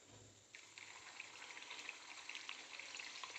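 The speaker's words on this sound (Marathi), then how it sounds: "तळायला सुरुवात झालेली आहे. डीप फ्राय करून घेऊया." Potato tikki deep frying in hot oil, a steady close sizzle and bubbling that starts soft and then holds loud and even for a few seconds, with no talking.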